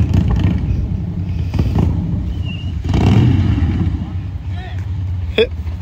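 A 2021 Harley-Davidson Street Bob 114 being ridden gives a continuous deep, loud engine rumble mixed with wind buffeting, with voices talking over it throughout.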